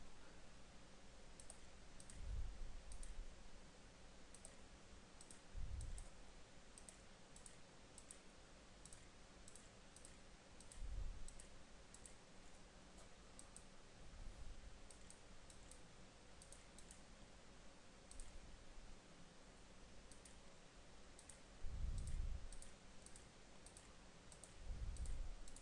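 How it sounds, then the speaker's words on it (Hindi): Keys tapped on a computer keyboard while entering text into an Excel 2010 spreadsheet cell, a steady stream of light clicks with a few heavier thumps, fairly quiet and close, with no talking. "अभी मैं यहाँ पे टाइप करता हूं"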